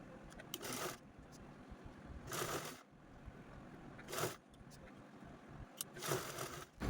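A sewing machine stitching along folded fabric with a lining, heard in several short bursts of whirring separated by quieter pauses, fairly faint and close.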